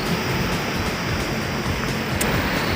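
Kalana waterfall in rocky hill country: a constant broad rush of falling water, loud and near, steady throughout with no voices over it.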